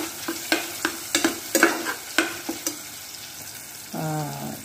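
Tomato, green chili and cumin sautéing in a pan, with a series of sharp spoon scrapes and taps over a soft sizzle, followed by a brief louder hiss near the end, close and without talk.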